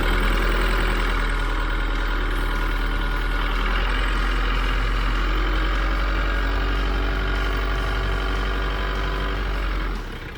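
A 4M41 diesel engine in a Mitsubishi Triton L200 idles steadily with a loud, even rumble throughout, the fuel system being purged with a cleaner, then it cuts off abruptly at the very end.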